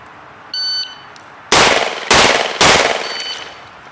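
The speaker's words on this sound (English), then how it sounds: "next are 3 shots from strong hand only for the ready position" Three loud, sharp pistol shots fired strong hand only at a five-yard shooting drill, spaced about half a second apart and preceded by a short electronic shot-timer beep, close and crisp against a quiet outdoor range.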